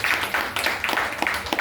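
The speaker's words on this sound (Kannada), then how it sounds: "ಒಂದು ಜೋರು ಚಪ್ಪಾಳೆ ಕೊಡಬೇಕು." Audience applause at a Dream Deal gathering, a short burst of scattered hand claps from a modest crowd, fairly close and moderately loud.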